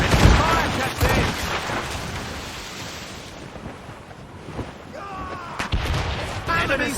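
Ship cannons firing in a naval battle in Assassin's Creed Rogue: heavy booms and cracks at the start, a lull of rumbling wind and sea, then another volley of blasts near the end.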